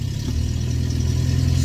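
A Renault 10 car engine on half choke idles steadily. The low, throbbing rumble is close and continuous throughout, with no voices.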